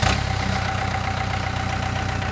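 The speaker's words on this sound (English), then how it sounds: "turn it over to start to crank the engine" Engine of a Barbco 824 CBM boring machine, steady and loud with an even idling rumble and a constant tone throughout, no talk.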